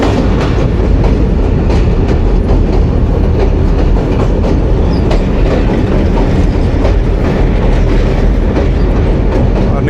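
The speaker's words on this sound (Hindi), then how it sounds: "इस वक्त हम गुज़र रहे हैं जी अटक रेलवे ब्रिज से" The Khushhal Khan Khatak Express crosses the Attock railway bridge over the Indus River with a loud, continuous rumble of wheels and rapid clickety-clack over the rails throughout.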